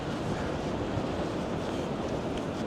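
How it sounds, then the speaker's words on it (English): Stormy high-tide waves crash onto the shore at Blackpool in winter, a steady dense roar of surf mixed with wind buffeting the microphone, continuous and fairly loud. "So waves crashing in, low sunlight."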